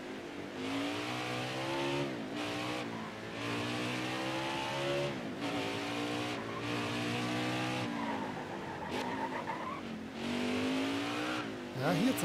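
A race car in the Nascar Heat 4 video game on the Mid-Ohio road course revs hard and skids out, its engine rising and falling repeatedly under long tire squeals, loud and close with brief gaps between bursts.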